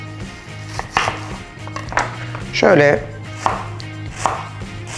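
A knife chops an onion rhythmically against a cutting board, close by, with a word spoken and a low hum in the background.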